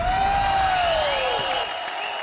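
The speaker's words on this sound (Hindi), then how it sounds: "जोरदार तालियां महाबली, कृष्णा और सुदेश के साथ नई टैलेंट खुशबू के लिए" A studio audience on the Comedy Circus comedy show claps and cheers in a steady, loud wash, with a falling whistle-like tone sliding over it and the clapping easing slightly near the end.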